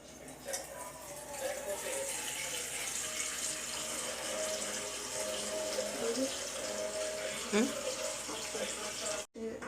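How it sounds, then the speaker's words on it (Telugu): Water runs and splashes into a bowl with a steady rushing sound, rising slightly in pitch as it fills, with some clattering near the end. "తర్వాత ఒక బౌల్లో వాటర్ నింపుకోవాలి"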